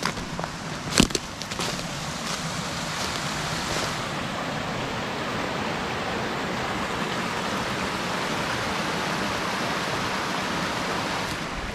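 A creek flows with a steady, broad rush of water close by, continuous and alone after a few faint clicks near the start.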